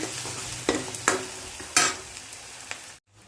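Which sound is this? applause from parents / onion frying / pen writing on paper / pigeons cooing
onion frying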